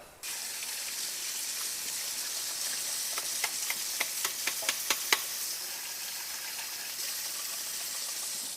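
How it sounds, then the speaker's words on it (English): Tap water runs steadily into a sink while a shower head is rinsed beneath it, a broad hiss with a burst of small clicks and splashes partway through. "I'm going to take this and put it under the sink, rinse it out, and make sure I get everything out of it"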